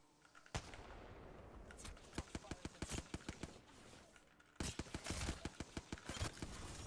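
Hemlok burst rifle firing in Apex Legends: rapid sharp shots in tight bursts and separate pops, loud and near, with a pause mid-clip before another quick volley, over steady game background noise.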